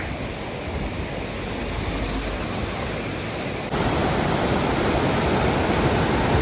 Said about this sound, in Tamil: அப்படியே மேலே அருவிலேருந்து கொட்டி அப்படியே வந்து டேமுக்கு போகுதுங்க